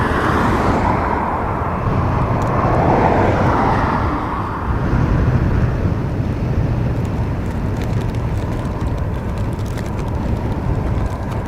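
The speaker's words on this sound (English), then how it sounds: "I think there's a little BizJet taxiing too" A small business jet taxis at Dublin Airport, a continuous whining engine drone with a broad rumble, loud and steady, shifting slightly in tone partway through as it turns toward the stand.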